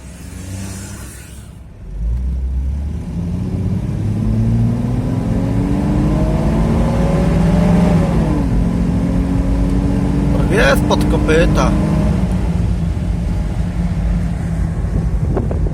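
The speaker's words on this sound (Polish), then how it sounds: "Patrol na gazie działa, jeździ." A 1992 Nissan Patrol with the 4.2 petrol six-cylinder running on LPG pulls away and drives, its engine note rising through the gears with wind buffeting the microphone and a voice talking over it.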